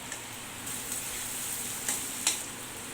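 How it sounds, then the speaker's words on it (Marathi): Finely chopped tomato sautéing with softened onion in a pan for a dried bombay duck masala, a steady soft sizzle with a few faint ticks and scrapes, no voices. "आता यामध्ये आपण टोमॅटो परतवून घेऊया"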